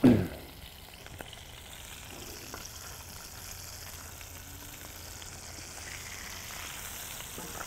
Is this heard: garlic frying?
yes